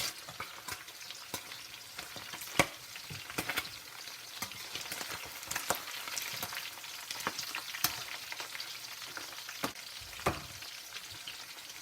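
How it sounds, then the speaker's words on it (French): Parsley and green onions frying in a pan where onions were cooked before, a steady close sizzle with crackles and sharp pops scattered throughout, no talking. "je vais mettre persil et oignons verts dans la casserole"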